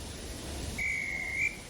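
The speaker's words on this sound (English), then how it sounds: "Just then, the guard's whistle blew, and the two engines set off." A guard's whistle in the Thomas & Friends Wonders of Sodor video game gives one clear, steady shrill blast lasting under a second over a soft background hiss.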